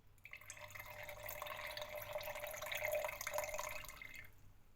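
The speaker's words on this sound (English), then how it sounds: "So we squeeze all our water, our onion juice out." Liquid juice from blended onion being squeezed out by hand drips and trickles continuously for several seconds, a faint, close, wet splattering with no speech.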